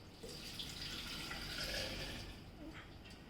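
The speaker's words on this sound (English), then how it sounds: "and now we'll pour milk" Milk pours into a blender jar over avocado paste, spinach, sliced banana and honey for a smoothie, giving a steady trickling splash that runs a few seconds and fades near the end.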